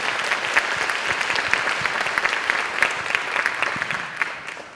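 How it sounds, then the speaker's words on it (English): An audience at a rural storytelling gathering gives a round of applause after live music, dense steady clapping from a moderately sized crowd, fairly close and continuous throughout. "Another round of applause for that."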